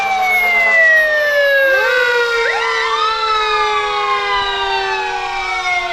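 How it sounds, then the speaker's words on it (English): Fire truck siren wailing loudly and close at an 89ers Day parade, a sustained rising and falling tone that sweeps up again partway through, with no talk over it. "when you see the fire trucks, that means the parade is coming to an end"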